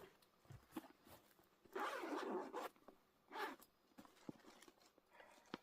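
A zipper on a storage bag is pulled open in two quick rasping runs, the first longer and the second short, close by, with light handling clicks and rustles in between and no talking.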